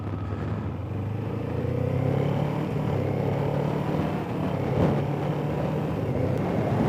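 Steady engine and road drone of a 2024 Kawasaki Ninja 7 Hybrid motorcycle as it rides off, a continuous low hum with slight rises in pitch, fairly close and unbroken.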